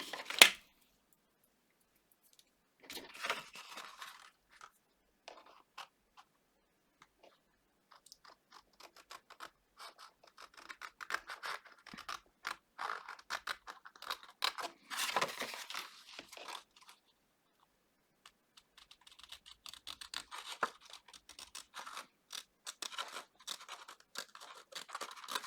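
Scissors snip through paper for a handmade scrapbook album's pop-up card, with short clusters of close crisp cuts and paper rustling separated by brief pauses, quiet and without speech.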